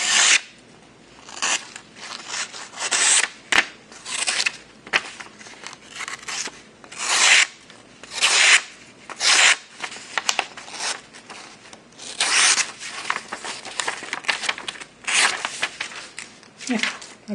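A double-bevel knife blade is sharpened with rhythmic scraping strokes, steady and moderately close, with a few faint rustles between passes.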